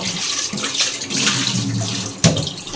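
Elephant apple fruit gets washed under running water in a kitchen for pickle-making: a steady, close splashing stream like a tap filling a sink, with a brief louder splash near the end.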